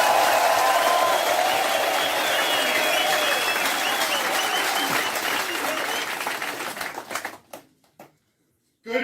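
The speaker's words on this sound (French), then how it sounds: "Applaudissez pour vous-même." Rally crowd applauding themselves, loud sustained clapping and cheering from a large gathering that thins into a few scattered claps and then stops abruptly.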